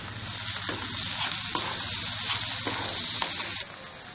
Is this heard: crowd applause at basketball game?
no